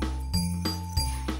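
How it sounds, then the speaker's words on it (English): Jingle bells shake in quick, rhythmic bursts of bright metallic tinkling, with a few shakes over a second and a half, heard close and clear. "That's the sound of bells jingling."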